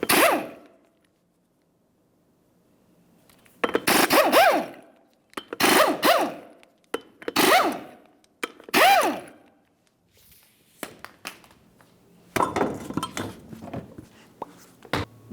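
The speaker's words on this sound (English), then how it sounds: "remove all 5 of your 19mm lug nuts and then the wheel" Lug nuts, five 19mm ones, come off the front wheel of a 2010-2013 Ford Transit Connect, then the wheel itself: four short, loud, harsh mechanical bursts about a second apart, followed by scattered metallic clanks and a rattling stretch near the end.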